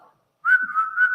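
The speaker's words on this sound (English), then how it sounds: "See, when you whistle," A person whistles a single sustained, steady tone close by, holding one pitch with slight wavering for about a second after a brief quiet start, with no talking.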